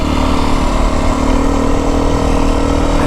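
A Beta 350 X-pro dirt bike engine runs loud and close, a steady buzzing four-stroke drone with no pauses, heard alone while riding through deep sand in the Arizona desert.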